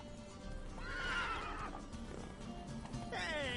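Roach, Geralt's horse in The Witcher video game, gallops with steady clip-clopping hooves and lets out loud, shrill whinnies, one early and another near the end.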